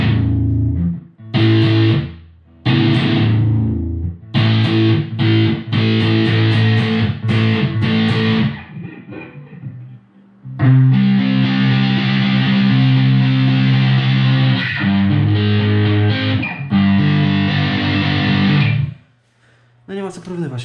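Distorted electric guitar played through a Vox Adio Air GT amplifier, loud chords and riffs in two long passages separated by a brief pause, ending in quiet.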